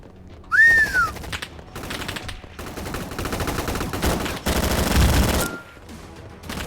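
Gunfire during a gunfight in the shooting game Gun Fight Arena: rapid automatic bursts rattle loudly across several seconds, with a short whistling tone near the start and brief pauses between volleys.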